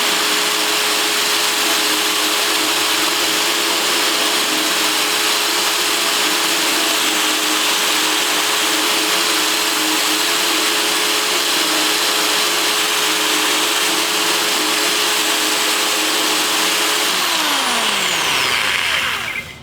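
A drill runs at full speed cutting a hole through the glass of an aquarium tank, giving a loud, steady, continuous whine that winds down near the end.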